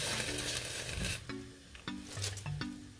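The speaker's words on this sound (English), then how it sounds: "I'm going to go ahead and start adding my cabbage little at a time" Shredded cabbage dropped a handful at a time into a pot of simmering broth, loud bursts of wet rustling and sizzly bubbling repeating in a few rounds, close up with no talk.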